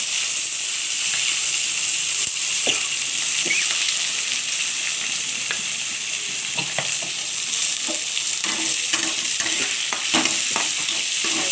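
Onions frying in a pan with whole chillies, bay leaf and cumin give a steady, loud sizzle throughout, broken by repeated scraping stirs of a utensil.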